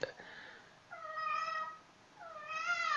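Domestic cat meowing close by, two drawn-out plaintive meows separated by a short pause.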